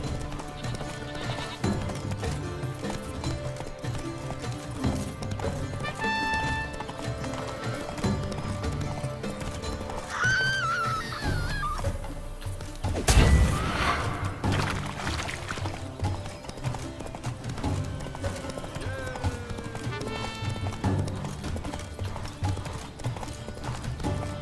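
Horse hooves clip-clop steadily in The Witcher III, with occasional neighs and a brief loud whoosh midway, set against an ambient game soundtrack.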